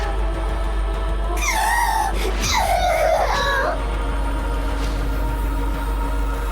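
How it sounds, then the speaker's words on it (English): Uni, a character in the video game Goddess of Victory: NIKKE, breaks into a high wailing sob, two rising and falling cries over a low steady background hum. "Uni begins to sob"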